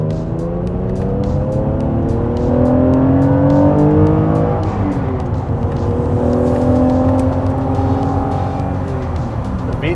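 A J-series swapped Honda NSX, running a stock computer, accelerates hard; its engine note rises and sweeps upward through several revs, loud and close, with no talk over it.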